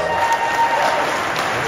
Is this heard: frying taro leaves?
no